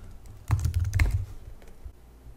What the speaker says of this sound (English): then we can just start typing